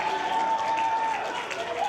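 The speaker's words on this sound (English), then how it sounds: "The crowd's trying to rally behind Brooke." A wrestling arena crowd cheers and applauds for Brooke in a dense, continuous wash of noise, with a commentator's voice over it.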